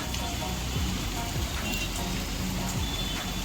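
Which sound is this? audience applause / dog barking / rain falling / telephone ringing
rain falling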